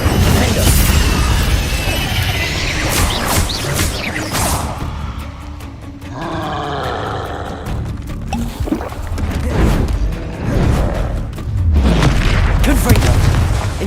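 Repeated spell blasts from Confringo and Incendio cast during Hogwarts Legacy combat, loud booming impacts and crackling bursts in quick succession over constant game noise, with a voice calling out spell names throughout.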